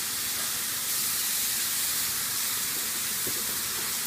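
Cecina beef sizzling hard in a hot pan, a steady loud hiss of frying fat that fills the whole clip without pause.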